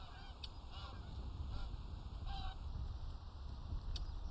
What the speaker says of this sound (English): Those geese are going to be in for a shooting soon.